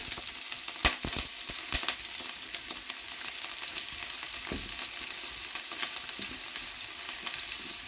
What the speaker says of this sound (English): I've added my onions and I have to stir it for maybe two minutes.